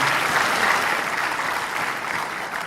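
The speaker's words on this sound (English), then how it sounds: "Give him a big round of applause for that question." An audience at a Passion Talks event breaks into applause after a question, a full, steady burst of many hands clapping together that fades slightly toward the end.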